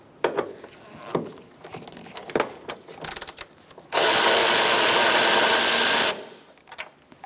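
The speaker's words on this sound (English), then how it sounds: "Now we're going to take out this bolt using a 12mm socket." A power tool spins a 12mm socket to remove a bolt from the grille of a 2014-2019 Kia Soul, one loud steady whir of about two seconds following scattered handling clicks and clatter.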